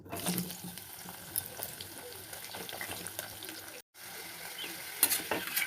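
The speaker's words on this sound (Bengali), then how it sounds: "তারপর আমি পেঁপেটা ভেজে নেব" Papaya fries in oil, a steady sizzle with occasional stirring scrapes, a continuous close crackle that briefly cuts out before resuming.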